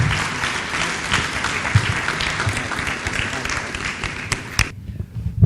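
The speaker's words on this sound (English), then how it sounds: "Give him a round of applause, please" Audience applause at the 13th CVL annual lecture, a dense, steady roar of many hands clapping close and loud for several seconds before cutting off sharply near the end.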